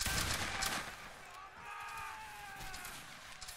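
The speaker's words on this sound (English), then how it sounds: "Keep shooting, lads, do not be afraid." Musket volley fire in the Roblox Wagram game, a dense crackle of massed shots rolling on steadily under a raised, chanting voice throughout.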